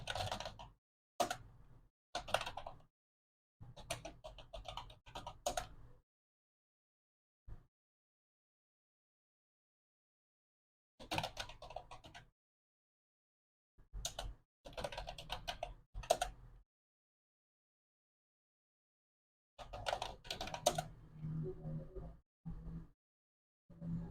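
Item names are typed into Microsoft Excel on a computer keyboard, in quick clattering bursts of keystrokes broken by several silent pauses.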